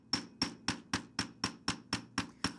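Hammer strikes wire on a steel mandrel to flatten it for a square pendant, ten evenly spaced sharp metallic taps ringing close and clear.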